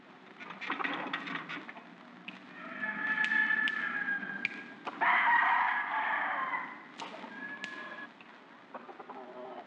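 A rooster crows twice in a scene from the 1964 Mexican cockfighting film El Gallo De Oro, fairly near, with clucking and other fowl sounds around it.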